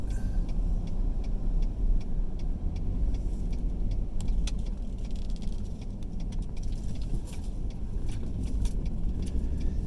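Car driving along a road near Bostwick, Georgia, pulling a trailer carrying a small subcompact backhoe: a steady low road and engine rumble with light rattling and ticking clinks from the load, no speech.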